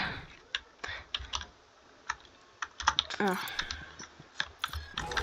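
Keys tapped on a computer keyboard during a game, with sparse, sharp clicks and short bursts, fairly close, while a voice speaks briefly in the middle.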